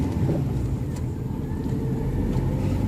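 A car engine accelerating during a driving lesson in Ankara, a steady low rumble of engine and road noise that stays loud and even throughout with no talk.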